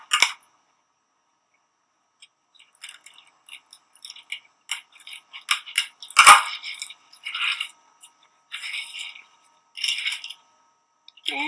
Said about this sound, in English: line up your ends and then cut the desired length